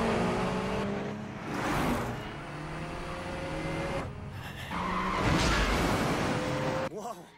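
Mazda RX-7 FD racing in an Initial D mountain battle, its engine note rising as it nears, with tires squealing and screeching through a corner over a music backing.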